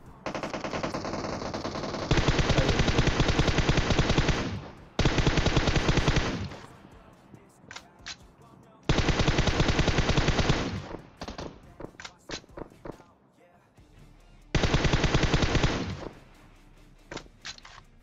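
Long bursts of rapid automatic gunfire alternate with scattered single shots and quieter gaps, loud and close, from combat in PUBG Mobile.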